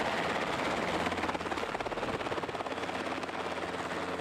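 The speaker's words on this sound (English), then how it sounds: "The helicopter can make a safe and gentle landing by means of a rotor blade pitch adjustment immediately prior to landing." Helicopter rotor and turbine noise during a landing, a loud steady broadband roar with a fast rhythmic blade thump, close and continuous with no voices.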